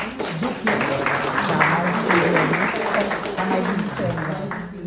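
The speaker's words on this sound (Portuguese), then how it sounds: "Palmas para vocês." Audience applause for teachers during a lecture, a dense continuous clapping that stays loud and even throughout, with a voice faintly audible beneath it.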